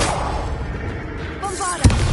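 A Confringo fire spell is cast in the video game Hogwarts Legacy, a sudden blast cutting through dense, rumbling battle ambience near the end of a brief burst of combat noise.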